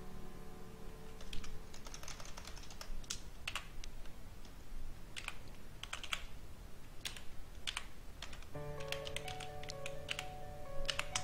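Code being typed on a computer keyboard, steady bursts of close keystroke clicks with short pauses, heard alone with no talk.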